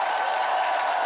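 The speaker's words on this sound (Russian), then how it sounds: "Еще раз эти аплодисменты вам." A studio audience at a live Russian entertainment show applauds, a dense, even wash of many hands clapping that holds steady without a break.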